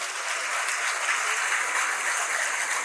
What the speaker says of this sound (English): let's give the governor a round of applause